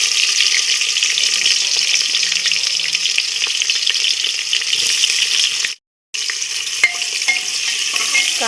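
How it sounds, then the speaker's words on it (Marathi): Onion dropped into hot oil with garlic for biryani, giving a loud, steady close sizzle and crackle that runs on continuously, broken by one brief gap of silence, with no talk. "लगेच कांदा घालून घ्यायचा आहे."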